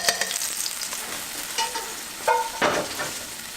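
A roast searing in a hot pan sizzles steadily, with a few louder bursts of spatter and scraping as the meat is shifted and pressed down, heard close and without talk.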